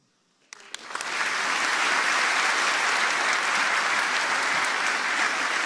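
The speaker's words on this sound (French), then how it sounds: "pour dire que vous êtes contents, vous allez applaudir." A conference audience at the Paris JUG bursts into applause after a few scattered early claps, swelling within a second into dense, loud, sustained clapping that carries on evenly to the end.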